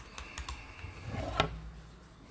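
Computer keyboard keys tapped while a password is entered, a short run of quick, light clicks close up in a quiet room with no talking.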